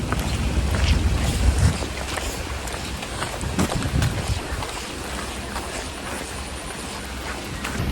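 Heavy rain pours outdoors with gusting wind, steady and close, buffeting the microphone in rough bursts with no voices heard.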